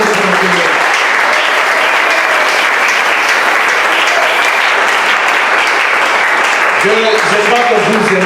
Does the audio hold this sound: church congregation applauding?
yes